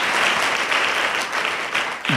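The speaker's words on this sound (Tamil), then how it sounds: "நல்ல கரங்களை தட்டி சொல்லுங்க" Steady, dense applause from a crowd, many hands clapping together at a constant level throughout.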